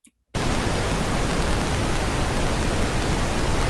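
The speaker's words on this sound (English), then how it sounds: "here's the what the M noise sounds like" M-noise, a loudspeaker test signal for measuring how loud a speaker plays before distortion, bursts in after a short silence as a loud, dense, steady hiss that continues unchanged to the end.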